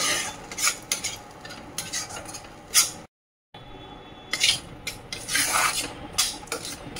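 Spice masala for a vegetarian matar paneer is stirred and roasted in a pan: steady rasping scrapes of a spoon against the metal, close and fairly loud, broken by a brief silent gap partway through.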